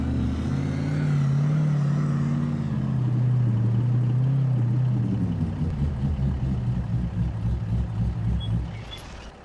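A Pro Mod drag car on street tires, in Farming Simulator 25, runs with a loud, steady low engine drone that wavers slightly in pitch before settling into a rougher, pulsing idle near the end, with no talking.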